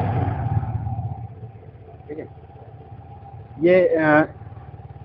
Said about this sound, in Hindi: 310 अपाचे 310 की साइलेंसर की आवाज